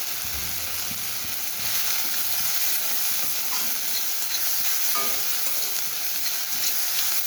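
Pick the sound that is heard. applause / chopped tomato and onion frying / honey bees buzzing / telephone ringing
chopped tomato and onion frying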